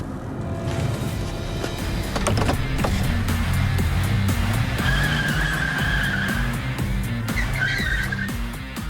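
A car driving up on a wide open, empty runway and skidding to a stop, a loud engine roar followed by drawn-out tire squeals up close.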